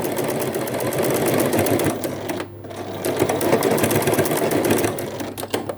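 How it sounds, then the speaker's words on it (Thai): A sewing machine stitching around the edge of a fabric bag pocket, running in a fast steady mechanical rattle close up, with a brief pause in the middle before it starts stitching again. "เย็บรอบแล้วก็ไปโพ้งค่ะ"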